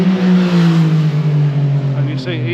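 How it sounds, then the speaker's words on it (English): Motorbikes racing through the streets of Bridgetown, Barbados, with a loud, close, sustained engine drone whose pitch slowly falls as they pass. "even on a sleepy Caribbean island, you get boy races on the motorbikes"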